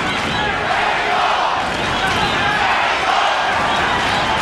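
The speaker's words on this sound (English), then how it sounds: "Crowd chanting Mexico, Mexico, trying to lift Chavez up." A large boxing arena crowd chanting "Mexico" for Julio Cesar Chavez against Meldrick Taylor in 1990, a loud, continuous roar of many voices filling the hall.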